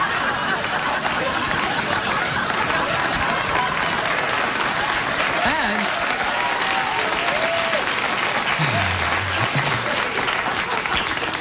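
Studio audience at a late-night talk show applauding, a steady wash of clapping with scattered cheers and a few laughs throughout, with a voice speaking briefly over it.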